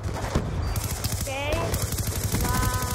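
Peacekeeper submachine gun firing in Black Ops 2 on the Hijacked map, a steady stream of rapid automatic shots with a voice talking over the fire.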